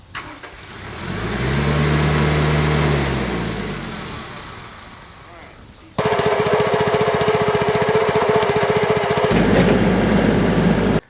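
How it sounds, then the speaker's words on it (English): A firewood processor's engine revs up and winds back down over several seconds, then a loud, rapid mechanical hammering rhythm kicks in close by and continues. "our goal today is to set up the firewood processor"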